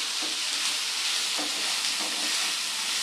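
Ingredients fry in a pan over a raised flame for a bread chicken roll filling, giving a steady, close, continuous sizzle and hiss with no talking.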